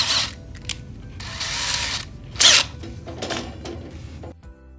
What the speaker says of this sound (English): we just put the screws in. Of course, let's change out my drill to a screwdriver.